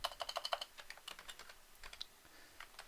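Commands being typed on a computer keyboard, a quick run of close, crisp keystrokes and then sparser, softer taps, with no talk.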